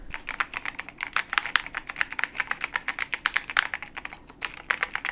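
Rapid, steady clacking of keys on a computer keyboard, close and fairly loud, a continuous run of crisp taps with no speech.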